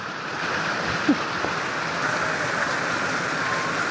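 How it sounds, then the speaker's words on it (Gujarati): Steady rain pours outside, a constant broad hiss of falling water that holds evenly throughout, with a faint knock partway through. "એક બાજુ વરસાદ ચાલુ છે બહાર"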